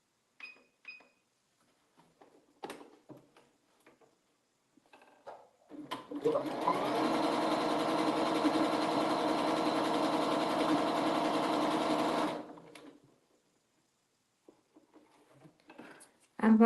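A sewing machine stitching a quilt block runs in one continuous, even burst of about six seconds, with quiet handling taps before and after.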